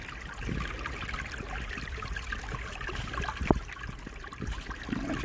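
Water poured and trickling into a nugget trap while gold panning, a steady wet running and dribbling sound with a brief sharper splash midway, fairly close and alone.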